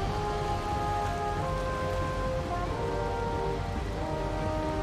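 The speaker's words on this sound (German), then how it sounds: "Es regnet wie Sau." Heavy rain pours steadily at sea in the video game Valheim, a dense, loud, unbroken hiss with faint sustained tones beneath it and no talking.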